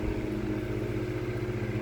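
A steady mechanical whir with a low hum and faint rattle, continuous and close, like fan blades spinning with no pauses, from a GE 12-inch oscillating strap desk fan, model F14S125.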